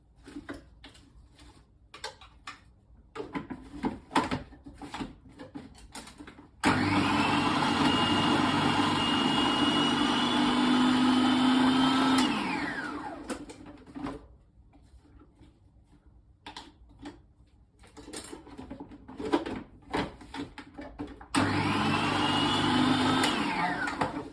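An electric grinder whirs loudly and steadily for about six seconds, winds down, then starts up again briefly near the end, with scattered clicks and handling noises in between.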